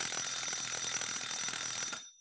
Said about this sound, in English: Guess what? The timer went off.